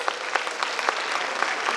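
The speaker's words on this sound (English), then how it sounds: "Give a big round of applause for all our students" Audience applause for students at a school inauguration event in New Delhi, steady and fairly loud clapping from a crowd with a rippling texture of overlapping hand claps throughout.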